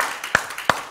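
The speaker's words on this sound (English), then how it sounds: "Give Him a hand clap." A church congregation gives a hand clap during worship, two distinct sharp claps spaced about a third of a second apart over a quiet room tone.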